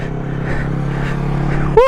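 A motorcycle engine drones steadily up close as a learner rider opens the throttle, holding a low constant tone before a brief higher rising whine near the end, with no clear speech.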